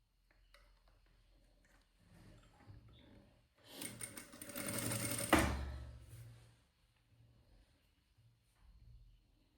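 A sewing machine runs in one sustained burst of rapid stitching in the middle, stitching a dart on a blouse, with quieter handling before and after.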